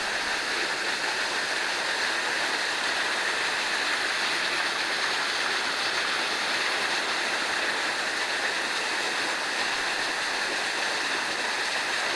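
Steady, broad rush of a waterfall in Madeira, heard from inside a cave, a constant hissing roar of falling water with no breaks and no voices.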